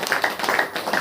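Church congregation at a Hindi-language Saturday prayer meeting clapping hands in a quick, rhythmic pattern, several sharp claps in about a second, fairly loud and close.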